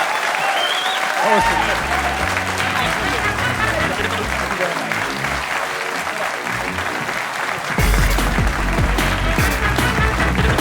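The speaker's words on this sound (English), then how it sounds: "massive round of applause" Theatre audience at a live podcast recording in Leicester Square applauds guest Danny Baker, a loud sustained ovation filling the room, with a host's voice and music-like tones cutting through and a louder burst near the end.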